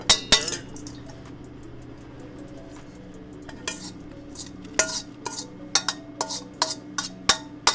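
Mango and carrot added to a mortar and pestle at a vegan Thai/Indian restaurant, with bright clinks and knocks in a busy, irregular rhythm, some close and sharp, over steady low kitchen hum.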